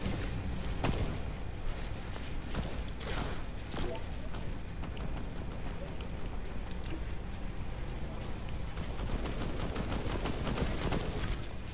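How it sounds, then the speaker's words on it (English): Rapid gunfire from a Fortnite match aimed at a house, dense bursts of shots and booms running continuously and loud throughout, with a voice talking over them. "I'm gonna shoot your house!"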